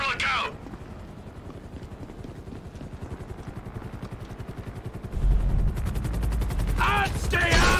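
In Grand Theft Auto V, a helicopter's rapid rotor thudding pulses steadily throughout while bursts of gunfire crackle around it and a loud rumble builds near the end, with brief voices at the start and close.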